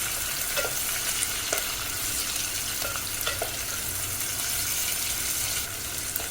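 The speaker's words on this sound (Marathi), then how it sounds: "थोडेसे पातळ चिरायचे तेलामध्ये भाजून घ्यायचे" Thinly sliced onion fries in oil for Khandeshi masala khichdi, a constant close sizzle with soft crackles and occasional faint stirring ticks, no talking.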